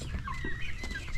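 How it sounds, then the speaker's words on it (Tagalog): Turkeys cluck and call in short bursts over a steady outdoor background, with several overlapping voices close by. "Malabas na yung mga pabo guys."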